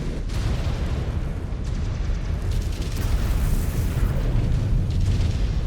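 A giant battle mech explodes in MechWarrior 5: Clans: a sustained, loud, rumbling blast with low booming continuing throughout, no voices over it.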